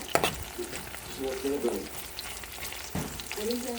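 Whole spices and onions sizzle in hot oil for liver bhuna, with a steady crackling fry and occasional scraping stir strokes close up, and a faint voice briefly underneath.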